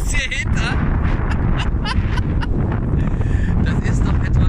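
Strong gusting wind buffets the microphone on a lake during a canoe trip from Lake Bennett, with steady low rumble and broadband roar throughout and a person talking over it.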